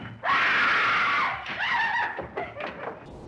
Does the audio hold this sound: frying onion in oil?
no